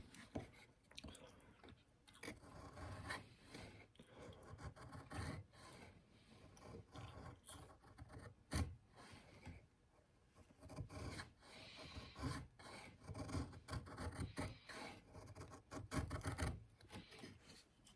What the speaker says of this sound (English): we can do very fine curls that they will ignite with the ferro rod.